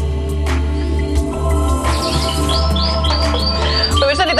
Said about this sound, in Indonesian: di tangan saya ini saya sedang memegang burung kenari atau yang biasa disebut dengan red intensif